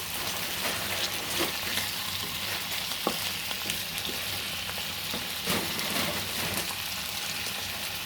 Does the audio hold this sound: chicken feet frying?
yes